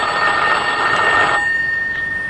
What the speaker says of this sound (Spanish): Se sobresaltó cuando escuchó el timbre del teléfono.